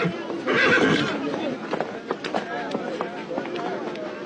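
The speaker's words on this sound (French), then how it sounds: "Lorsqu'il parade à cheval dans les rues de Casablanca, le général Hubert Lyautey" A horse whinnies loudly near the start, followed by a steady run of hoof clops, with a voice talking faintly underneath.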